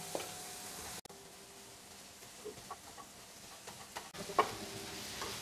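Garlic and tomatoes sautéing in a pan, a faint, steady sizzle with scattered light clicks and stirring taps, close but quiet, with a brief cut partway through.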